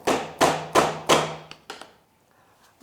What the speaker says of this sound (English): take your tapping block and just give it a few firm whacks